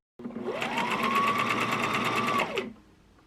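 A sewing machine runs steadily for about two seconds while hemming a rolled edge on satin fabric, a close, even mechanical whir that starts and stops cleanly with no talking.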